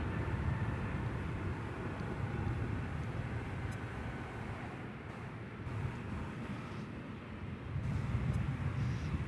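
A passenger jet in World Cup livery taxis at night at DFW Airport, crossing a bridge to the eastern side. It comes through as a steady, low, distant engine rumble mixed with wind, with no voices.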